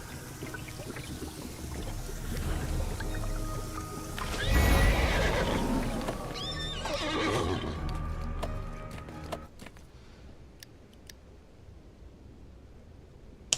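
A horse mount in the video game Neverwinter lets out a loud, drawn-out whinny that rises and shakes over a few seconds, with faint hoof clip-clops, then fades into quieter game ambience.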